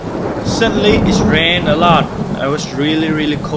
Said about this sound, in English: Suddenly it rained a lot.